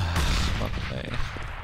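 Gunfire in Counter-Strike on the de_mill map, a loud sharp shot at the start followed by further cracks and clattering game effects, with a commentator's voice faintly underneath.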